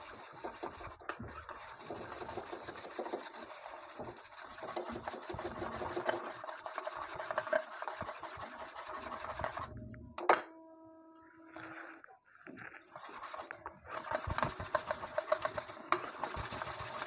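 Gram flour batter for khaman dhokla being whisked in a bowl gives a steady, close scraping and rubbing that runs continuously, breaking off briefly midway before the mixing resumes.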